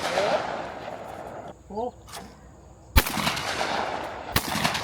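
Shotguns fire at clay targets on the Elstonville shooting range, two sharp loud blasts a couple of seconds apart, with people talking and calling out between the shots.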